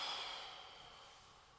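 A single deep exhale during seated chair yoga, a soft breathy whoosh close by that fades out gradually over a second or two, no talk.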